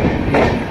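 Passenger train on the Howrah–Amritsar route rolling along the rails: a loud, steady rumble and rattle, close and continuous, with no talking.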